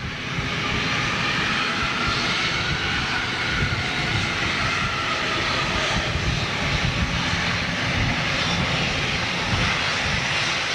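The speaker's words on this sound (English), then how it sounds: "Watch the props go into reverse." A turboprop airliner lands with its propellers in reverse thrust, making a loud, steady, broadband engine roar that continues unbroken for about ten seconds, heard from outdoors near the runway.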